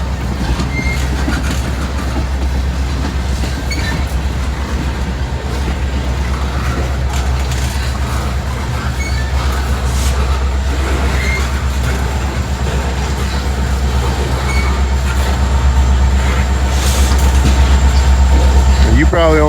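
Deep, continuous rumble of a slow freight train with a distributed power unit rolling past close by, loud and steady for the whole stretch, with faint rail clatter and a voice near the end.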